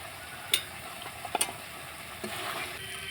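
Masala and potatoes sautéing in a pan for a prawn biryani, with faint low scraping, a few sharp spoon clinks against the metal and a soft sizzle building toward the end, close and quiet with no talking.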